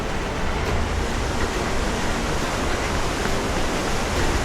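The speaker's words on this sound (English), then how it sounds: "Our next waterfall is Pointail Falls." Steady broadband rush of water from Ponytail Falls in the Columbia River Gorge, Oregon, close and loud and unbroken from start to finish, with no voices.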